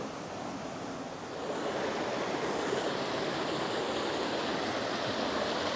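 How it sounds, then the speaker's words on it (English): A constant rushing splash of a small waterfall over lava rock formations, steady and fairly close, swelling slightly louder after a moment. "There's even a little waterfall."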